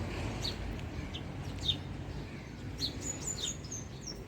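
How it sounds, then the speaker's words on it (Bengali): Two common mynas call outdoors on a morning walk: scattered short, high chirps and whistles, fairly distant, over a steady rumble of background noise. "দুই শালিক দেখো"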